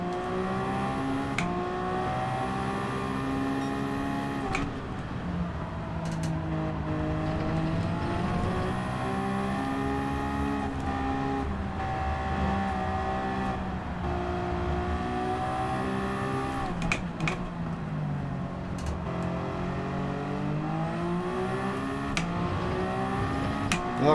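Toyota GR010 race car engine in Gran Turismo 7 during a 30-lap world finals demo race: a loud, continuous engine drone with pitch rising and falling through gear changes, filling the whole stretch with no voice over it.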